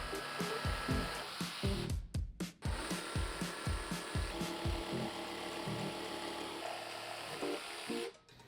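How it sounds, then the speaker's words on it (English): A jigsaw cutting curved lines into cherry wood for a lamp leg, sounding as a steady buzzing mechanical whine with repeated rhythmic chattering pulses, briefly stopping and restarting, close and loud with no talking. "I'm using a jigsaw to cut just proud of my curve lines"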